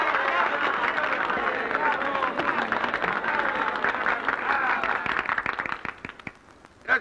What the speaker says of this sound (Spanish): pido un aplauso para ese hombre